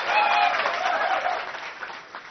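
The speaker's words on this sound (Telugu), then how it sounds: "మోదీ గారి చప్పట్లు కొట్టాలి మనం ఆయన చేసిన కృషికి" A crowd at a pension distribution event in Pithapuram claps for Modi, a sustained wash of applause that gradually thins and fades toward the end, with some chuckles in the mix.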